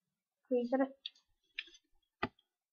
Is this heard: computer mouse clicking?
yes